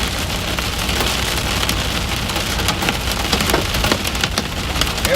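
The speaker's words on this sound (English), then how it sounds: "Getting some hail right here." Hail falling during a plains thunderstorm, a dense, steady clatter of hailstones striking surfaces up close, loud and continuous with sharp ticks scattered through the roar and no voices.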